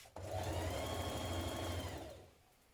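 A sewing machine stitches a 1 cm seam joining coat lining pieces, starting abruptly and whirring steadily for about two seconds before winding down.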